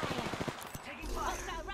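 Bursts of automatic gunfire in the battle royale shooter Apex Legends, a quick rattling string of shots followed by a louder, denser mix of game sounds.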